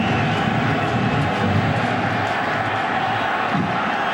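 A stadium crowd at a 2006 AFC Divisional Playoff game between the Colts and the Ravens in Baltimore fills the air with a steady, dense roar of cheering, constant and loud throughout.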